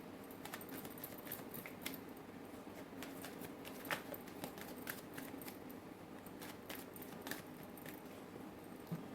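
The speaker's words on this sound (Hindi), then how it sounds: "जब तक मैं कार्ड शफल करूँ" Tarot cards are shuffled by hand in quick, soft riffling clicks and patters. The sound repeats steadily at close range and fairly quietly, with no talking over it.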